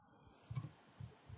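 A few quiet keyboard clicks, roughly three soft taps spaced apart, close and faint over a low background hiss.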